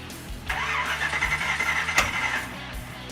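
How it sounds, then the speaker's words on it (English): A carbureted drag-build car engine is cranked with its timing off and backfires through the carburetor, a steady mechanical churn punctuated by a sharp loud pop near the end. "Attempted to fire it and it backfired through the carb"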